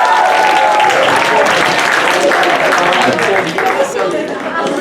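An audience at a comedy hypnosis show bursts into loud applause mixed with cheering and crowd voices, the clapping strong at first and tapering slightly toward the end.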